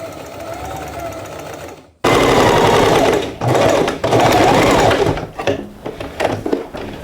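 A sewing machine runs stay stitches along the top and bottom of a corset for a graduation dress: a loud, close whirring run that starts abruptly, breaks briefly, then resumes in uneven stop-start bursts.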